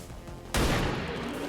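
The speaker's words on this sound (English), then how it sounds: "we're going to take shots at Dashers whenever possible here" Gunfire at Dashers in XCOM 2: a sudden loud burst at mid-clip that stays dense and sustained to the end, following a quieter stretch.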